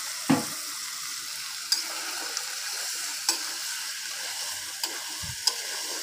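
Sliced broad beans and potatoes fry in a pan where a fish head and tail were browned, a steady soft sizzle broken by several sharp scraping clinks of a spatula spaced across the stretch.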